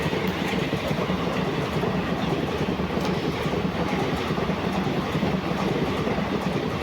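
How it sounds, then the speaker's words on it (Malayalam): A superfast express train passing through Mayyanad village railway station in Kerala, a loud, steady roar of rolling wheels with rhythmic clickety-clack over the rails, close by and sustained throughout. "നമ്മുടെ സൂപ്പർ ഫാസ്റ്റ് വണ്ടി അങ്ങനെ ക്രോസ് ചെയ്ത് പൊയ്ക്കൊണ്ടിരിക്കുകയാണ് മയനാട് റെയിൽവേ സ്റ്റേഷൻ"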